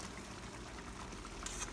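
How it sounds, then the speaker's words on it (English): Ginataang laing, taro leaves in coconut milk, simmering in a pot: a soft, steady bubbling and gurgle, faint and close, with no voices. "we're gonna let this simmer for another 5 minutes"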